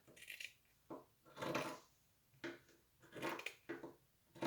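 Dollar Tree garden shears cutting wreath material into a C shape for a bunny butt wreath, giving several separate close crunching snips and rustles at irregular intervals, quiet with no talk.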